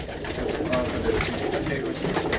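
Pigeons cooing steadily and close at a pigeon breeding loft, a continuous soft murmur of overlapping coos with no talk.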